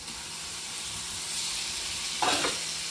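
Food sizzles and fries in a pot over a wood fire, a steady close hiss with a brief burst of louder crackling and stirring near the end, and no one talking.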